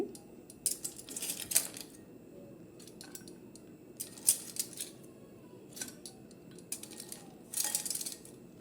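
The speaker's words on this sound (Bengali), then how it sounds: "এখন আমি আইস দিচ্ছি" Ice cubes go into carrot juice in a glass, giving a series of sharp clinks and rattles in scattered clusters over a quiet background.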